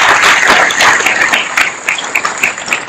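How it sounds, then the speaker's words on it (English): Audience at a theological forum gives a short round of applause, loud and close at first, then thinning into scattered individual claps. "let's again congratulate her and thank her with a round of applause"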